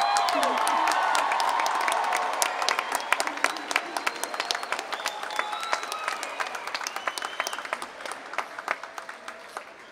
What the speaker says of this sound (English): Please join me in giving this outstanding group of graduates one more round of applause.